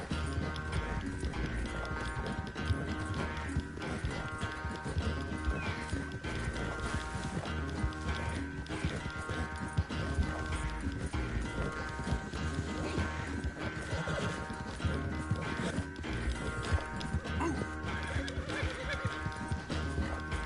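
A horse in Red Dead Redemption 2 neighs and clip-clops along at a gallop, with continuous game sound and music filling the whole stretch and a rider urging it on in short bursts of talk.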